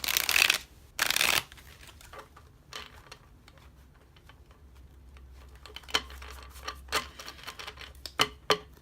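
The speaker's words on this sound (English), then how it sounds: "I'll do one more shuffle, and then we'll call it good." Two quick riffling bursts of tarot cards being shuffled, followed by quieter taps and soft clicks of the cards being squared up and handled.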